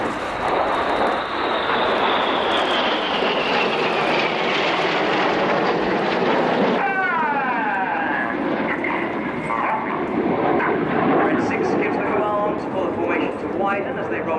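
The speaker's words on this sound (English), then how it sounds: "give the synchro pair a big wave as they fly past you upside down" RAF Red Arrows jets at the RIAT 2014 air display roar overhead in a sustained loud pass, the engine pitch sliding downward as the synchro pair flies by, and an announcer talks over the noise.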